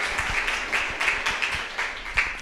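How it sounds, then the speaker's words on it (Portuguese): A class in a Brazilian maths lesson applauds in short, loud rhythmic bursts of clapping over a couple of seconds, with a voice partly over the claps. "palmas pra vocês, palmas pra vocês"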